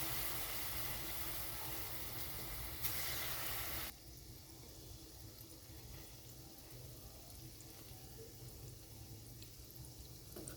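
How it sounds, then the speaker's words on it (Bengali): Small palm fruit fritters (taler bora) are dropped one by one into hot oil in a pan, making a continuous, fairly quiet sizzling hiss that softens a little partway through. "এক এক করে দিয়ে দিচ্ছি ভাজার জন্য তালের বড়া"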